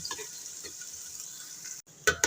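Chopped onions fry in a pan as they are stirred toward a light golden color, a continuous close sizzle with soft scraping that cuts out briefly, then returns with louder clattering stirs.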